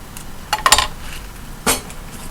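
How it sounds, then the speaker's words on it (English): A knife chops the ends off an onion on a kitchen cutting board, giving a quick cluster of sharp taps followed by one more distinct chop, close and fairly loud, with no talking. "Take the onion, chop the front and back off."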